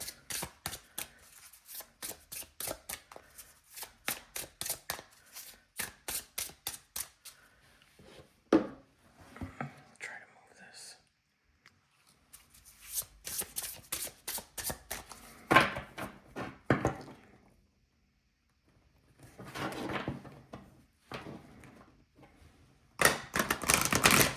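Stiff, new gilded-edge oracle cards are riffle-shuffled in repeated bursts of rapid flutter and snapping clicks, separated by brief pauses and soft handling sounds.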